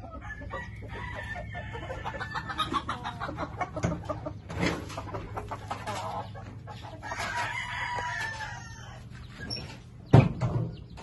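A flock of chickens, including a rooster, clucks and crows at moderate distance, a steady mix of calls with a sharp knock near the end.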